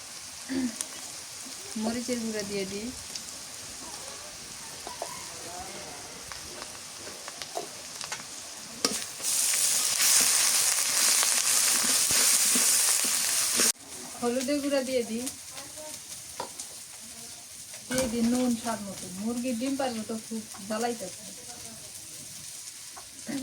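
Spice paste of garlic, cumin and garam masala frying for beef curry, stirred with intermittent scraping while a person talks over it, broken by a loud sustained hiss of sizzling in the middle.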